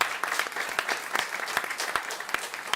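A crowd at a regenerative food systems event claps in a round of applause, a dense sustained patter of many hands at moderate distance with no talking.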